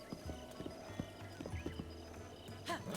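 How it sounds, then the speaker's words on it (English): Horse hooves clip-clopping in the video game Zelda: Breath of the Wild, quiet repeated hoofbeats with a short whinny near the end. "Come here, horse."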